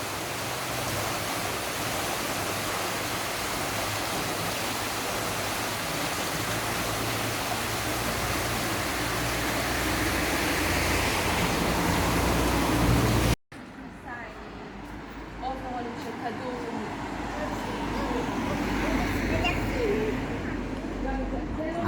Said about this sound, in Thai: ตรงบริเวณนี้ครับคือน้ำจากน้ำตกนะครับ ที่เขาทำเป็น ทางน้ำไหลลงมาครับ